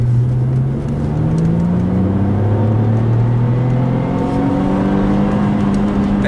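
A 2006 Saab 9-3 Aero's engine revs hard under acceleration in second gear, its pitch climbing steadily to 60, loud and close from inside the car.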